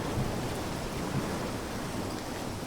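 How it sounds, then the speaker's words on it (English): Storm waves beating against a ship, a dense, steady roar of churning water and wind with a brief heavier surge, no voices. "Alan felt every grind and crack as waves beat against the ship"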